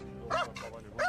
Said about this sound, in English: Even the police dog lost its patience in this one and went after an environmental activist.